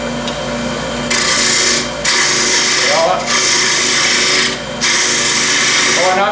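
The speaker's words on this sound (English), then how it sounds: "never want to adjust your tool rest while the lathe's running" Wood lathe turning a curly maple body, a loud steady whirring hum with rough broadband hiss that cuts out briefly a few times, while a person talks over it.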